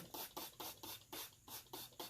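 Rapid spritzes from a spray bottle, about eight short hissing bursts in a steady rhythm, close and fairly quiet.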